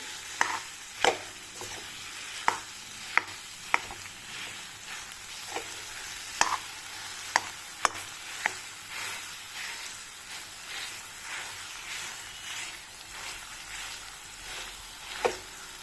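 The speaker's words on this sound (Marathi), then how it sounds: "खवा पूर्ण असा परतून घ्यायचा तुपामध्ये" Khoa roasts in ghee in a pan and is stirred, a soft background sizzle punctuated by regular sharp scrapes and taps of the spatula against the pan, no talking.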